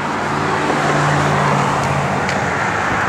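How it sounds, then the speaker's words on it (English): A 1970 Ford Mustang with a mild-built 351 V8 and four-speed manual rumbles steadily, a loud, close, continuous low engine drone. "when Jay fires it up here, it's got some rumble to it"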